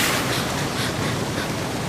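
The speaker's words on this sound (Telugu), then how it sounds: "ఈ జలపాతం ఎంత బాగుందో కదా" A waterfall in a Jungle Book cartoon jungle gives a dense, steady roar of rushing water, loud and unbroken throughout.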